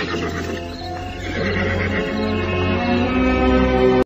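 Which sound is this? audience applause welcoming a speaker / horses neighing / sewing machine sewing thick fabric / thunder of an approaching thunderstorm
horses neighing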